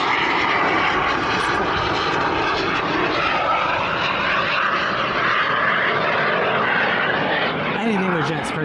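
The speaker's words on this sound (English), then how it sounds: "Right now, the microjet's out." A microjet flies at an airshow at Apple Valley Airport, its engine roaring steadily and loudly throughout, with people talking nearby under the noise.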